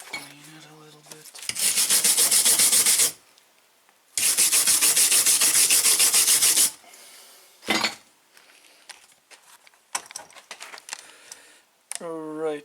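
Welds from flux-cored wire on a Wurzburg MIG100 are cleaned with a power tool, giving two long, loud abrasive grinding passes, then scraping and clinking of metal, with a voice briefly heard.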